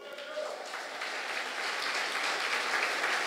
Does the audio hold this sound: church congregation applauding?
yes